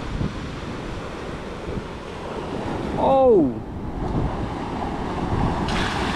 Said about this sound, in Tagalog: Sa tabing dagat. Kakaalon pag ganitong oras.